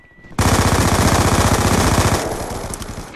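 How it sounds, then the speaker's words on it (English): Sustained automatic machine gun fire in the video game Black Ops 2, a loud rapid burst of about two seconds that then fades and tapers off. "Aaron, why are you trying to shoot someone from there?"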